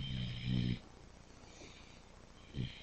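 A pet dog snorting and breathing heavily at close range, two or three throaty snuffling bursts over a quiet background, with no talking.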